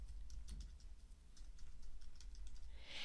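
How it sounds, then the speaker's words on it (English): Keys on a computer keyboard being typed at a steady, quick rhythm, close and faint, with no talking over the patter. "And then I'll start typing."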